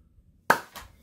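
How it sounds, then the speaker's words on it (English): A few sharp hand claps ring out close and loud, spaced irregularly after a moment of near silence, with no talking. "I don't know why I clapped."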